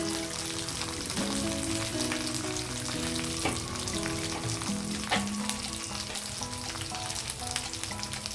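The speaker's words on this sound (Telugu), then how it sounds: "శనగపప్పు జీలకర్ర ఆవాలు వెల్లుల్లి వేసానండి ఇవి కొంచెం వేగిన తర్వాత మిగిలిన యాడ్ చేద్దాం మనం" Chana dal, cumin, mustard seeds and garlic fry in hot oil with a dense, steady sizzle, with occasional crackles and faint spatula scrapes while music plays underneath.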